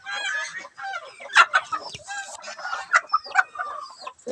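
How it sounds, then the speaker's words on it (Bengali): Chickens on a poultry farm cluck in a steady, close chatter, with several louder squawking bursts standing out from the flock. "এই যে আমার মুরগিগুলো দেখতে পাচ্ছেন।"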